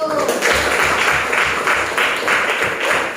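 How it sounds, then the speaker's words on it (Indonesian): Applause from a classroom of students, a loud group clapping in a steady, slightly pulsing rhythm up close, with some voices mixed in. "Coba kasih tepuk tangan dulu"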